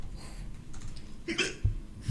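A single short, sharp sneeze during a tabletop game session, fairly quiet and brief against low room noise, with no talking.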